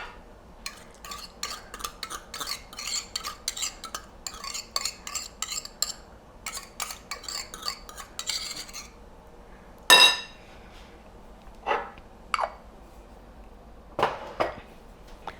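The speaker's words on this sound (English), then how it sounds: "Whisk that together. Make sure there are no lumps." Besan (gram flour) and yogurt are whisked in a bowl, with rapid bursts of metal tines clinking against the bowl, pausing between, then a sharp knock and a few louder taps; no speech.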